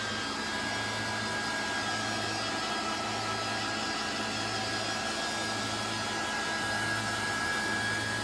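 A hair dryer blows steadily to dry the top of a handmade faux apple pie craft, a continuous even whir with a faint low hum, close and uninterrupted throughout.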